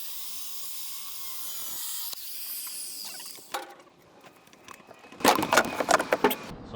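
Power saw ripping through a rotten wood floor section on a Glastron-Carlson CVX23 boat, with a whine building and then loud, harsh cutting bursts near the end, close by.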